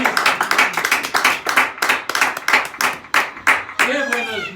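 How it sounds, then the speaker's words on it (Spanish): A church congregation claps hands in quick, uneven bursts, loud and close, while a pastor's voice carries over the clapping. "Dele palmas al Señor."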